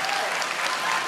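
A church congregation claps together in a dense, steady burst of applause that fills the room for about a second.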